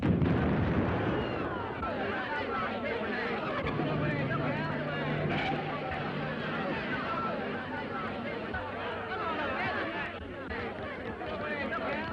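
Aftermath of a bomb blast in the 1936 film Sabotage: a dense, rumbling roar with debris and crowd commotion, while voices talk over the noise throughout.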